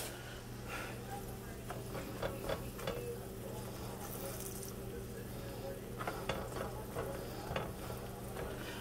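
Meat sears in a hot pan for quesadillas in a home kitchen, giving a steady close sizzle with occasional stirring scrapes and clicks. Faint talk is heard under the frying.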